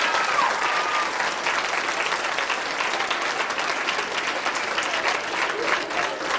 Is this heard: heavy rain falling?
no